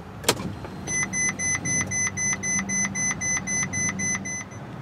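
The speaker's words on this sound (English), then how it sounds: "take the key and go ahead and turn the vehicle's power on." A 2015 Ferrari 458 Italia Spider switching on its power: a short key jangle, then a steady run of about a dozen evenly spaced electronic chimes or pulsing beeps over a low hum, close and clear with no talking.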